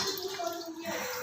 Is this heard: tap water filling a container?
yes